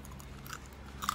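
Crisp dried jujube is bitten and chewed up close, with quiet crunches spaced about half a second apart over a soft background; no one speaks.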